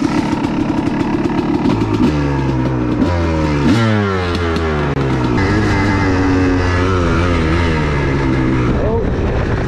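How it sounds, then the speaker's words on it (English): A Honda CR250 two-stroke dirt bike revs loudly and climbs through the gears, the engine note rising and dropping repeatedly, close and continuous for the whole stretch. "I'm just gonna take this bike for a rip"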